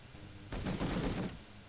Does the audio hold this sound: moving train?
no